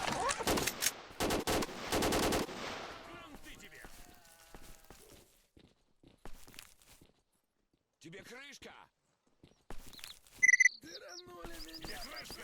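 Pistol fire in S.T.A.L.K.E.R. Shadow of Chernobyl, a rapid burst of sharp loud cracks at the start, followed by sparse footsteps and scattered game sounds amid quiet gaps.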